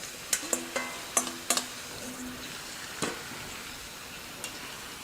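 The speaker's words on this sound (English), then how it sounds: "I got my onions in here, starting to saute a little bit." Onions and fresh mushrooms sautéing in oil, a low sizzle under a cluster of sharp spatula clinks and scrapes early on, then a single louder knock and scattered lighter taps.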